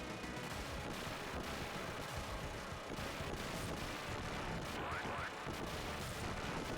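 Machine gun fire in the retro run-and-gun game Gunstar Heroes, a dense, unbroken rattle of shots and blasts that stays loud and busy throughout.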